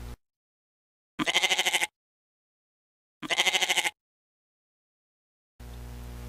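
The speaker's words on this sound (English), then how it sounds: "Goat." Goat bleating: two separate quavering, pulsing bleats, each under a second long, loud and close with silence between them and no talk.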